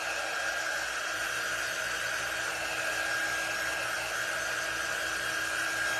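Hair dryer blowing a steady, even hiss of air across a fabric pumpkin craft, continuous and unbroken with no talking.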